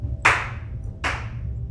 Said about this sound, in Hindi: मुझे कुछ मिनट बाद बाहर से ताली बजने की आवाज़ आई।